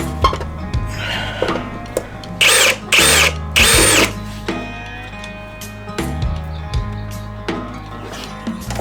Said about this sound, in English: I'm using a 5/32 drill bit.